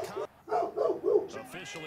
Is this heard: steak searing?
no